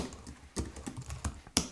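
Fast typing on a computer keyboard during live Linux coding in the vi editor: rapid, uneven clusters of close keystrokes, ending in one sharper key hit.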